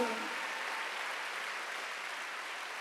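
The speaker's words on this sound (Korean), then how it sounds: "박수." A church congregation at a Sunday worship service claps together in a steady, even burst of applause that holds at one level from start to finish, with no voices over it.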